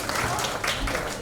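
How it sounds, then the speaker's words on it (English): An audience at a book launch claps in a brief, busy burst, many hands patting unevenly with a few sharper slaps, lasting just over a second. "Let's have a huge round of applause for him."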